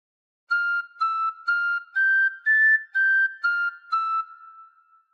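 A tin whistle plays a slow, clear melody from "All Through The Night" of eight sustained notes, each separated by a brief break, rising slightly in the middle before settling back down.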